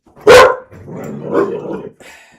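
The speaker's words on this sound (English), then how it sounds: "My dog doesn't like it whenever I say hello." Dog named Hathor, a female, lets out one loud sharp bark up close, then lower grumbling growls that trail off.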